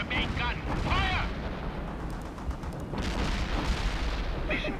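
Heavy main gun of an armored vehicle in a war video game fires at a fortification, booming blasts and rumbling explosions mixed with radio voices and battle noise.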